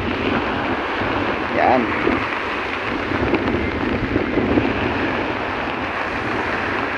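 Strong wind roars steadily and loudly across the microphone outdoors, a constant rushing buffet that continues the whole time while someone speaks briefly over it.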